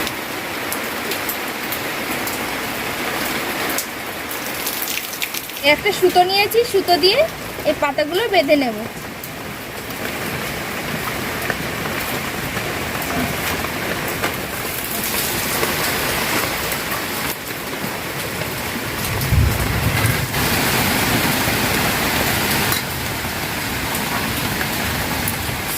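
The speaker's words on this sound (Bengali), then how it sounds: "এখন কিন্তু বেশ জোরে বৃষ্টি নেমেছে।" Heavy rain pours down steadily outside a home kitchen, a dense hiss throughout; someone talks over it and some nearby rustling and clatter come and go.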